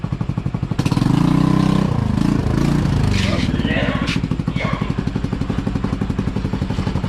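A motorcycle pulls in to park, its engine rattling and idling with a rapid, steady putter, and a brief clatter and voices partway through before it settles to an even idle.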